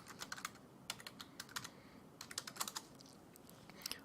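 Keys clatter on a computer keyboard as an email address and password are typed to log into an account, a quick irregular run of close, crisp clicks with short pauses and no talking.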